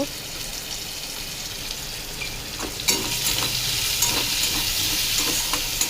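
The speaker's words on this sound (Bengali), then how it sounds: "নুন হলুদ দিয়ে এবার একটু নেড়ে ভাজা ভাজা করে নেবো" Vegetables are stir-fried with salt and turmeric in a pan, a steady close sizzle with stirring scrapes that grows a little louder partway through, with faint speech in the background.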